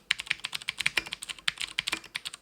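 Fast typing on a Cherry MX Red mechanical keyboard fitted with Cherry ABS keycaps, a close, rapid run of soft, muted keystrokes in an uneven rhythm, with no voices.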